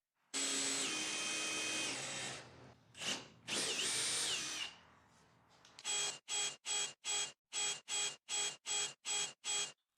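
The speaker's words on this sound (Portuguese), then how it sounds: "Esta é uma broca de pua de 14 milímetros. Posso então estimar o centro, fazer algumas marcas e começar a furar." A power drill with a 14 mm auger bit bores holes in wood for a rebar fence, running in long steady whines, then pausing and finishing with about ten short rhythmic bursts.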